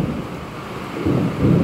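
Steady rain hisses in a soft wash, swelling slightly toward the end, with no voices.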